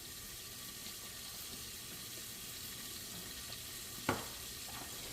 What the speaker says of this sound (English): Add onions to hot pan.